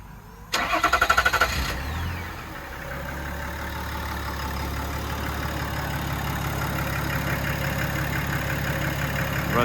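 A 2021 LM2 Duramax diesel swapped into an 80 series Land Cruiser cranks briefly with a whirring starter, then catches and settles into a steady, rumbling diesel idle, close and unobscured by talk.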